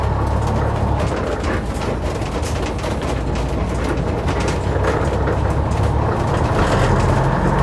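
A Leyland Atlantean bus engine running through gear changes, a loud, steady low diesel rumble heard from onboard, with rattling body noise and slight shifts in engine note.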